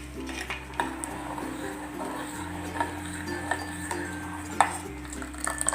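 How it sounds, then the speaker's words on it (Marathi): Green mango aamras being stirred in a pan, with light clinks and scrapes of a spoon against metal over a steady low background hum; no one speaks. "अधूनमधून ढवळत राहायचं"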